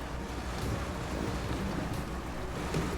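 Heavy truck hauling a trailer through river water in SnowRunner, Wisconsin map, a steady rushing, churning wash of water with low engine rumble beneath, continuous and fairly loud throughout.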